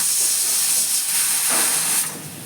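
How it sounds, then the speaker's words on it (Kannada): Rice payasa sweetened with sugar and flavored with cardamom, pistachio, cashew and almond boils in a pot, giving off a steady, close, steamy hiss and bubbling that continues without pause for the whole stretch. "ಇವಾಗ ಕುದೀತಾ ಇದೆ"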